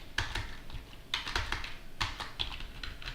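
Someone typing on a computer keyboard at a desk, a quick irregular run of close, crisp key clicks and clacks with no talking.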